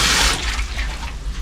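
Water runs steadily from a tap in a restroom at a river adventure park restobar, a close, hissing splash that fades slightly as the faucet is turned off, with no talk.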